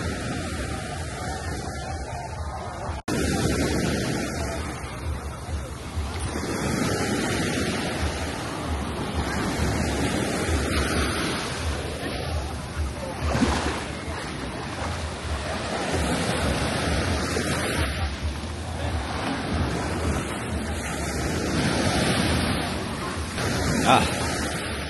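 Ocean surf rolls steadily onto crowded Haeundae beach in South Korea in summer, a broad continuous wash of breaking waves mixed with wind buffeting the microphone, with faint crowd voices underneath.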